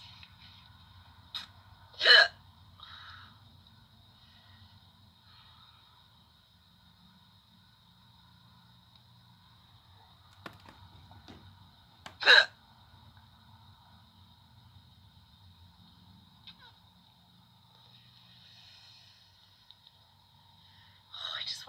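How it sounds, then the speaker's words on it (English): A woman's hiccups, two sharp, loud spasms about ten seconds apart, with faint quieter catches in between against a low, steady background hum. "I had to get these hiccups."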